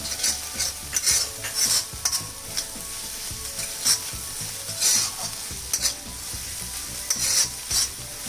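Ginger and garlic paste sautéing with mutton keema, a steady sizzle broken by rhythmic scraping spoon strokes against the pan every second or so, close up and without speech.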